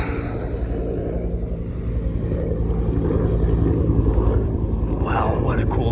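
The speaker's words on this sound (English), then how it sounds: "that helicopter is back right on cue" A helicopter's low, droning rumble hangs in the background and slowly grows louder as someone talks nearby, outdoors in Phoenix, Arizona.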